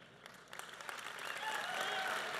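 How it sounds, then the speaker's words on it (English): Conference audience applause that starts moderate and swells steadily into a sustained, dense wash of clapping filling the room, with no speech over it. "If the center section starts clapping,"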